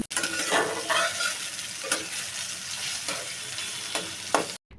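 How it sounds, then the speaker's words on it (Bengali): Chopped onion fries in hot soybean oil for a tomato fish curry, giving a continuous crackling sizzle with occasional stirring scrapes. It ends with a brief cutoff. "তেলটা যখন হালকা গরম হয়ে আসবে ঠিক এ পর্যায়ে এর ভিতরে দিয়ে দিব পেঁয়াজ কুচি"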